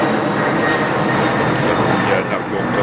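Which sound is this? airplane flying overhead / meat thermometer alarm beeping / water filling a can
airplane flying overhead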